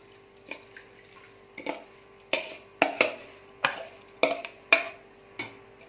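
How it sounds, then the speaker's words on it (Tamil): Dry rice tipped into a pot of boiling water while cooking prawn biryani, giving a series of sharp splashing, rattling bursts about every half second over a steady low bubbling hum. "இப்போ தண்ணி கொதிச்சிருச்சு. இந்த அரிசி இதில் போட்டுருக்கேன்."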